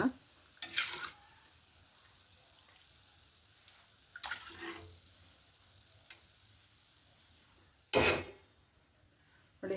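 Quiet frying of field bean seeds in a pan, with a few short bursts of sizzling and scraping spaced several seconds apart; no voices.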